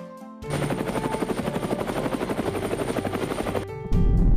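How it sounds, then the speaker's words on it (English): A helicopter's rotor beats in a fast steady chop for about three seconds, loud and close, ending abruptly before a different low rumble starts. "helicopter,"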